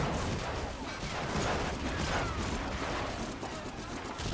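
Dense, continuous gunfire in the World War II shooter Medal of Honor: Frontline on PS2, a steady wash of overlapping shots and crackling bursts with no pauses and no voices.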